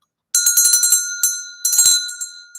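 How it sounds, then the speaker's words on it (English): A bell is rung as a reward for a correct answer: a quick run of bright, ringing strikes, a short pause, then a second burst of rapid rings, loud and close with no talking. "I'm going to give them a bell ring"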